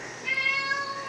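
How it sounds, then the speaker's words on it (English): A pet cat gives a single drawn-out meow indoors, close and fairly clear over quiet room noise. "there's my cat Jupiter."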